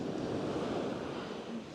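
Large waves of 1.5 to 2 metres break on the Portuguese coast at São Pedro da Cadeira, churning up sand in a broad continuous surf roar with some wind noise, steady and fairly close.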